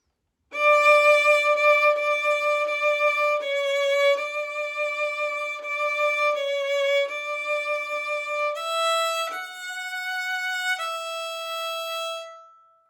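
A violin melody of held bowed notes, a simple beginner line, steady and evenly paced, each tone changing cleanly to the next, played alone at moderate volume.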